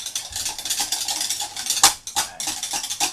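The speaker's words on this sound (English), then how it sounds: "I can now whisk it and hopefully get it into my normal texture of a creamy substance." A whisk beating a creamy body scrub mixture in a bowl, a steady run of close clinking, scraping strokes with a brief louder knock near the end.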